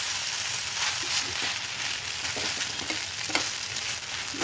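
A Maggi noodle omelette sizzles loudly and steadily in a pan, with scattered soft spatula scrapes as it is gently turned over, heard up close without voices.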